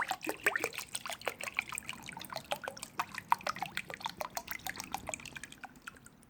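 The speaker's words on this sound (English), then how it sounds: "And pour a little more." More water goes into a container while vintage hammers are being de-rusted, a close, steady patter of drips and small splashes falling in quick irregular succession, moderately quiet with no talking.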